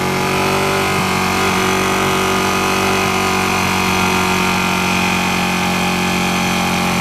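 A 2016 Ducati 959 Panigale motorcycle engine runs steadily and loudly throughout, a continuous close-up engine drone with strong low harmonics and no talk over it.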